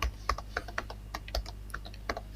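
Rapid keystrokes on a computer keyboard while C code is entered, irregular close clicks with small pauses and a louder clack at the end.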